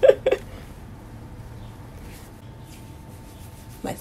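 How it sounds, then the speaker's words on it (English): Hands rub a cold moisturizing spray into the scalp, giving a faint, soft friction sound with two brief louder rubs at the start and another near the end, quiet and close. "Spray and rub it in."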